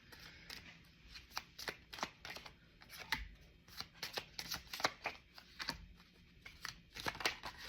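A deck of cards is shuffled again and again, crisp riffling bursts repeating in a quick irregular rhythm, close and fairly quiet with no talk.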